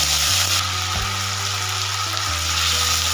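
Diced potatoes fry in hot mustard oil in a wok with a loud, steady sizzling hiss up close. A low hum with shifting tones runs beneath it.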